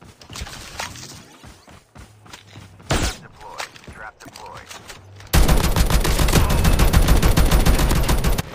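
Scattered thumps and movement give way to a loud, continuous barrage of rapid-fire gunshots in a Call of Duty video game in the second half.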